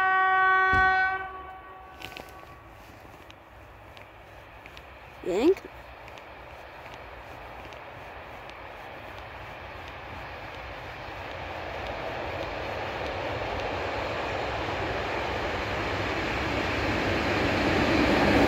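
A short freight train of two chemical tank wagons passes, its horn sounding briefly at the start, then a steady rumble of wheels on rails that grows louder toward the end.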